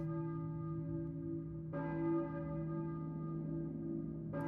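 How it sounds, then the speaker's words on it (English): A church bell tolls in Silent Hill, a steady resonant ring sustained throughout, with a second strike about halfway through; moderately loud and alone, no voices. "church bell. Who is ringing the church bell?"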